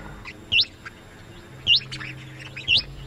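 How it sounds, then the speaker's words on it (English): White-fronted honeyeaters give three short, high chirping calls spaced about a second apart over faint background hiss, with no talk. "White-fronted honeyeaters."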